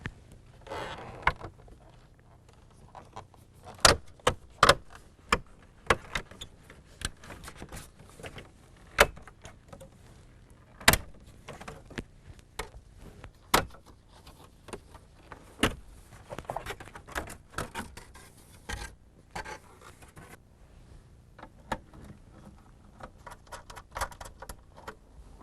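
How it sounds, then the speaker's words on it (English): Plastic instrument panel trim being pried off inside a 1995 Buick, sharp irregular snaps, clicks and rattles, close and loud against a quiet background. "first I need to remove the IP trim panel."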